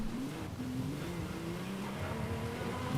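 A car engine hums and revs while driving in the Forza Horizon 5 Eliminator arena, a steady moderate drone with rising pitch sweeps and faint tire noise.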